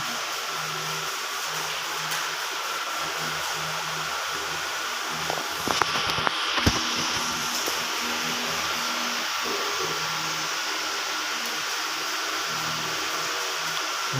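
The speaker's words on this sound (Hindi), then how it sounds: "पंखा लगा दिया है।" An electric fan runs indoors in a house being painted, giving a steady, even whirring hum that continues throughout, broken by a few brief clicks and knocks partway through.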